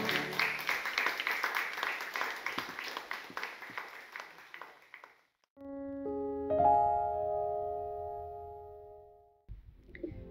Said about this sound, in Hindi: आइए हम सब खड़े होकर उस जिंदा परमेश्वर को एक जोरदार तालियों का अर्पण हम देंगे